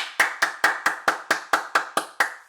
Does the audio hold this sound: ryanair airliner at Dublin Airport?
no